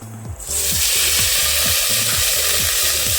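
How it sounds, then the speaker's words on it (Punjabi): Two large grated onions hit a pan of roasted cumin for an aloo soya chunk sabzi, bursting into a loud, sustained close sizzle with steady stirring scrapes underneath. "ਇੱਥੇ ਪਿਆਜ਼ ਆਪਾਂ ਦੋ ਪਿਆਜ਼ ਵੱਡੇ ਗ੍ਰੈਂਡ ਕਰ ਲਏ ਸੀ ਇਹਨਾਂ ਨੂੰ ਪਾ ਦਵਾਂਗੇ"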